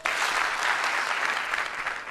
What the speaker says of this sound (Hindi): जब भी मैं हेलो बोलूंगा आप एक बार ताली बजाएंगे